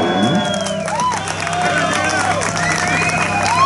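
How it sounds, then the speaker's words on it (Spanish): An audience at an open-air café cheers and claps after a blues song, a loud crowd roar with whoops and excited voices over it. "Aplauso, por favor."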